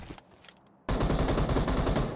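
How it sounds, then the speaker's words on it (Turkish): Enemy gunfire in PUBG Mobile, a loud sustained burst of rapid automatic shots that starts abruptly after a quiet moment and keeps going without pause. "Nereden vuruyor oğlum?"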